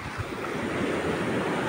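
Sea waves wash along a beach shoreline in a steady, continuous roar of surf, moderately loud and broadband, with some wind noise and no talking.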